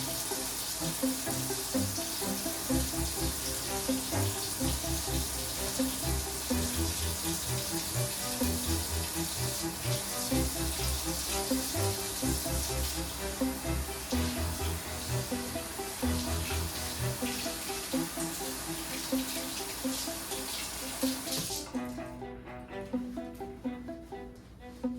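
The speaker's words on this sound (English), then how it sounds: "Washing your hands should always be your first step." A tap runs steadily as hands are washed beneath it, a loud, continuous splashing wash of water that fills the whole stretch before cutting off abruptly near the end.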